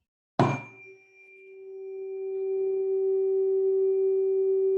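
After a sharp tap, a steady pure tone rings from the air column of a longer resonating tube, swelling gradually louder and holding evenly, close with no talk.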